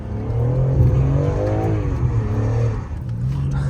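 A BMW M3 drifting on a track at full throttle, its engine revving hard and droning loudly and close throughout, with the pitch wavering as the car slides.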